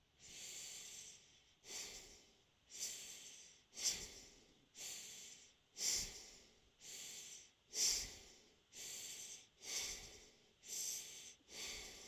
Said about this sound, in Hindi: सांस को अंदर भरें तो पेट दबाएं, बाहर निकालें तो पेट को फुलाएं।